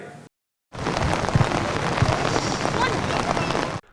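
Heavy downpour soaking a children's football tournament, a dense, steady roar of rain hitting the ground close by, continuous for several seconds after a brief cut.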